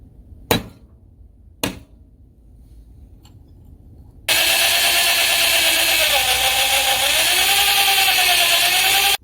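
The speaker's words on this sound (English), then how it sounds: "I'm just going to drill a quick lanyard hole at the top here" A drill bores a lanyard hole in a steel prybar. Two sharp knocks come first, then the bit engages in a loud, continuous whine whose pitch wavers as it cuts through the metal, running to the end.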